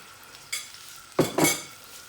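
Dried seasonings brown in a hot pan for Jamaican-style peppered prawns, with a soft sizzle under a few brief scrapes and clinks of stirring, close and quiet, without talk.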